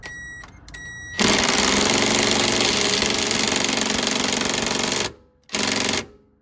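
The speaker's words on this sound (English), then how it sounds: "now we get to enjoy the sweet, sweet sound of impact on the bottom one" An impact wrench hammers loose the lower motor mount bolt on a Lexus LS400, with a couple of short rattling bursts followed by a long, loud, steady rapid hammering and one final short burst.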